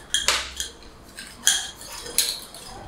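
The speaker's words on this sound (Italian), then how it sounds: "All'interno un altro contenitore con la gavettina" A small metal camping mess tin, packed for a cycling trip, is handled in a series of sharp metallic clinks and rattles. Three stronger knocks come at irregular intervals, close and fairly loud, with no voices.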